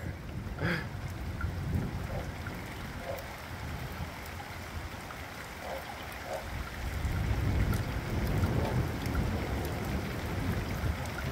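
Thunderstorm rain pours steadily, blended with wind gusting across the microphone into a continuous broad roar that swells slightly toward the end; no distinct thunderclap stands out.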